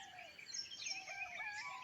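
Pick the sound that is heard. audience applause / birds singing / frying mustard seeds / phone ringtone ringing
birds singing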